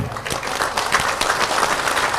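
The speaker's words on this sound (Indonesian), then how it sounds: "Anda jangan tepuk tangan" Audience applause during an Indonesian Islamic sermon, a lively burst of clapping from the congregation with distinct individual claps standing out, fairly loud and close, with no talk over it.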